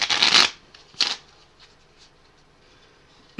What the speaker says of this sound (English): first we're going to shuffle them back into the deck